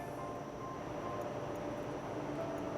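A train running in the railway sim game Rail Route, heard as a steady low rumble with a faint tonal hum, continuous and even throughout with no talking.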